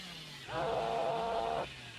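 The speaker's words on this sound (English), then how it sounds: "Using their chainsaw ability to get a little bit of distance on the map." The chainsaw ability sound of the Hillbilly killer in the online horror game Dead by Daylight: a loud revving buzz lasting about a second that rises over steady game ambience and then cuts off.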